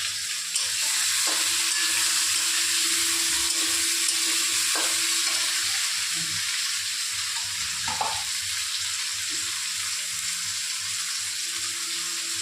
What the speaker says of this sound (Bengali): টমেটোগুলো দিয়ে ভাজা ভাজা করে নেব।